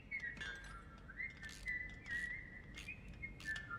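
Someone whistles a wavering, sliding tune in the horror video game The Baby In Yellow, a faint repeated melodic whistle over a quiet background hum.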